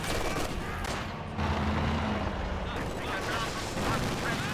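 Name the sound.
machine gun firing incendiary rounds in a video game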